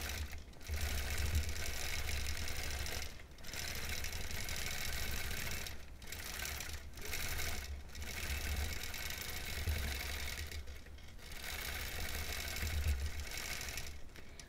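A sewing machine stitches tiny free-motion quilting curves on dark fabric at a short stitch length, running in a steady whirring drone broken by several brief pauses, close and fairly quiet.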